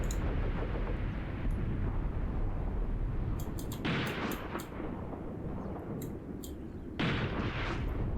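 Battlefield gunfire and artillery blasts in the wargame Graviteam Tactics, a continuous rumble of shots with two louder bursts of impacts about four seconds apart, filling the whole stretch without voices.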